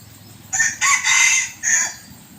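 A fawn-colored crossbred fighting rooster crows loudly nearby in one drawn-out call with a brief break, over faint background rumble.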